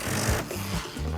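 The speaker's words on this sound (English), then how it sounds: "I'm going to attach that with a screw to hold it in place." Power drill drives a screw into a privacy partition pilaster, a steady close motor whir and grinding with a brief dip in the middle before it resumes.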